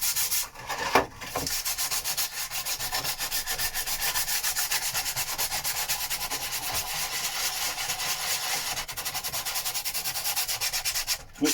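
A boat's gel coat is hand sanded in one direction and then in small circles, giving a steady, continuous close gritty rubbing that runs almost without pause.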